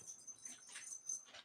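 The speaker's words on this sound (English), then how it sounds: "pardon the dog" A dog whimpers faintly in the background of a home office, thin high-pitched whines recurring over a second and a half beneath low room noise.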